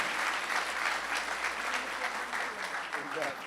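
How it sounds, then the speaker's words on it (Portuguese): A church congregation applauds a couple, a sustained, even round of many hands clapping that fills the room throughout, fairly distant and without speech over it. "Uma salva de palmas para esse casal bonito."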